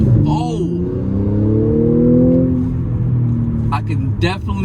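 A modified supercharged Audi S4 pulls away on a test drive, its engine note rising steadily in a loud, close drone with gear-change dips, as someone talks over the cabin sound.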